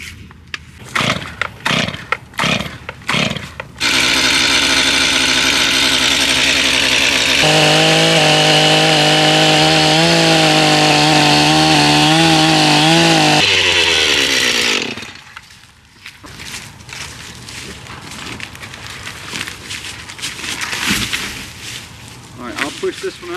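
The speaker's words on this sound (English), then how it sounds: "All right, let's get the chainsaw." A chainsaw starts with a few sharp pulls and revs, then runs loud and steady while cutting wood, dropping its pitch under load, cutting out, then sputtering through short bursts.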